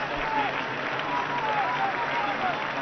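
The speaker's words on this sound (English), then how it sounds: "The crowd, you can hear them now, becoming even more excited" Large crowd cheering at an Olympic men's single sculls rowing semifinal, a dense continuous roar of applause and shouting with a commentator's voice faintly audible under it.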